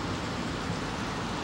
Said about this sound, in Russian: В общем, дождь почти прошел. Ну так, мелкий какой.